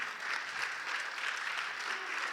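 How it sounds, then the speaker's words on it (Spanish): Applause from a large church congregation, a steady wash of clapping that holds at an even level for a couple of seconds. "Denle un aplauso al Señor."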